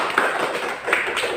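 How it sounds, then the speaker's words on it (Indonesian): A class of students in a school classroom giving a short burst of clapping, close and scattered, lasting just over a second. "beri tepuk tangan pada kelompok 3"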